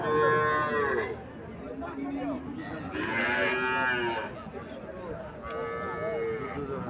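Cows moo loudly and close by in several drawn-out calls, with a person talking underneath; a dairy cow with Sahiwal bull calf.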